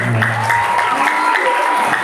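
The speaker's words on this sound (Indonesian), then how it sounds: "Tepuk tangan untuk Pak Daroto" Applause from an audience at a morning religious study gathering, a steady patter of many hands over a short stretch with voices mixed in.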